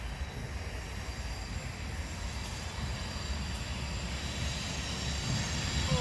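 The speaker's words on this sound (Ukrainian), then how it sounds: "поїзд приїхав." A train arriving beside an autumn park, a steady low rumbling roar that slowly grows louder over several seconds, heard from outdoors with no talking.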